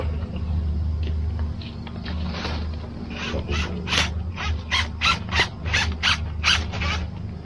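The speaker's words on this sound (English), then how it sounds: "Get a screw right into there." A screw being driven in on a concrete pour job, a rapid run of sharp ratcheting clicks building up close by over a steady background hum, with no talking.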